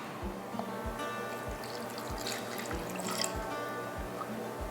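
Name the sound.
water poured into a pot of blackberries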